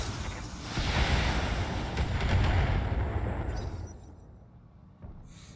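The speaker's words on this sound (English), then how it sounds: "Firing all weapons." A mech in the Battletech video game fires all of its weapons at once, a loud rolling barrage of booming explosions that swells and then fades away, ending with a single sharp final crack.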